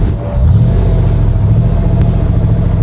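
Engine of a 1965 Ford Cobra revving loudly on a test drive, a deep continuous roar with rising pitch as it accelerates, heard close up.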